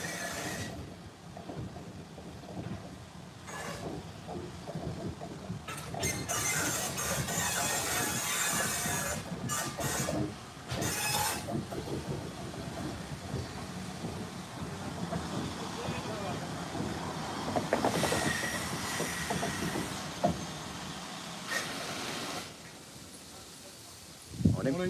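A steam train on a heritage railway near Corwen rolls past over about 25 seconds, a steady broadband rumble and hiss with rhythmic wheel clatter, swelling louder near the end; faint voices talk in the background.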